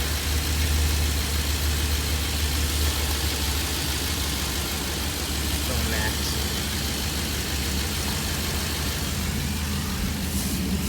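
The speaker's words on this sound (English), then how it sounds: "Now I'm going to turn the AC on" Air conditioning in a 2012 Ford E-350 van blows steadily while the engine idles, a continuous, fairly loud broadband rush over a low engine rumble that holds unchanged from start to end.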